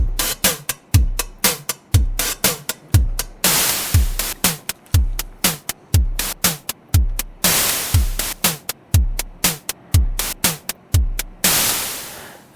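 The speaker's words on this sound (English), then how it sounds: "an example of a rudimentary drum machine" A rudimentary drum machine patched on a Voltage Modular step sequencer, using white noise for hi-hats, plays a steady looping pattern of punchy low kicks and crisp noise hits, with longer noise swells recurring every few beats, loud and alone.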